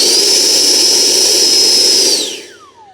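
A Freewing Motion RC F16 V2 electric ducted-fan jet on 8S power is throttled up. It gives a loud, steady high-pitched whine with a rushing hiss, then spools down with a falling pitch.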